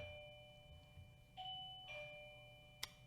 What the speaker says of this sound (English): So we taught our Siberian Husky, Mia, how to ring a doggy doorbell to get out of the house or to be let into the house.